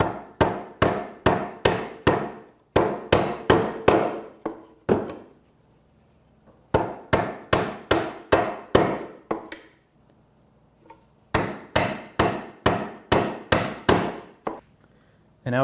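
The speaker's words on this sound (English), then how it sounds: "I'm going to stay about a 1/16 of an inch away from the scribe line and just keep removing the waste, moving the chisel down a little bit at a time" Chisel driven by mallet blows paring waste wood from a cherry cabinet side, heard as three bursts of rapid, evenly spaced sharp knocks, each run about two to three seconds long, separated by short quiet pauses.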